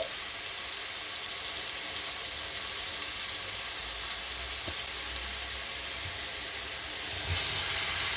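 Ginger garlic paste and green chili sizzling in a hot pan, a steady bright hiss of frying that continues evenly throughout, with a faint clink near the middle and no talk.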